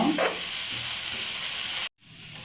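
Cassava bonda filling with coriander being sautéed in a pan, a close, steady hiss of frying with faint stirring that cuts off abruptly before a quieter sizzle resumes.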